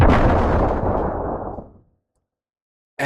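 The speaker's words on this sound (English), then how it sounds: "Drop a bomb." A single loud bomb explosion sound effect booms and then rumbles away over about two seconds, followed by silence and the start of a voice at the very end.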